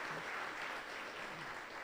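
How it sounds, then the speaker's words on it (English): Audience applause at a public announcement of a new 24/7 mental health crisis care center in Ohio, a steady, dense wash of clapping sustained through the whole moment without a break. "Yeah, that deserves a round of applause."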